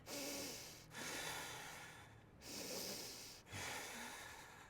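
Slow, deep yoga breaths held through a pose, several long airy inhales and exhales in a steady rhythm, close and clear with no talking.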